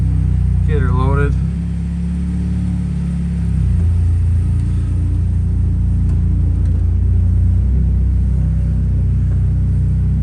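A NASCAR Pure Stock car engine idles with a loud, deep, steady rumble after starting, its pitch briefly shifting, while a person talks over it.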